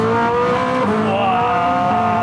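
A Koenigsegg supercar engine revs hard, its pitch dropping and climbing again through a quick gear change, loud and close from inside the cabin.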